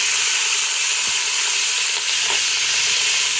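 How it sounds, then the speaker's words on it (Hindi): Onions, ginger, garlic and green chillies frying in ghee make a loud, steady, close sizzle that fills the whole stretch, with a brief stirring scrape partway through. "ये देखें प्याज फ्राई हो चुके हैं"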